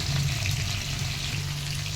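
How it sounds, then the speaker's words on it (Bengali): Cauliflower frying in hot oil with turmeric, a loud, dense sizzle close up that crackles continuously for the whole moment without any voice. "ওই তেলের মধ্যে কপিগুলো ভেজে নিচ্ছি একটু হলুদ দিয়েছি হলুদ দিয়ে কপিগুলোকে ভাজা করছি"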